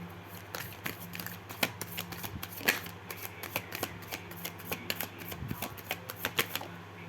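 A deck of tarot cards being shuffled up close, with a quick, irregular run of crisp riffling and slapping bursts throughout, fairly quiet and with no talking.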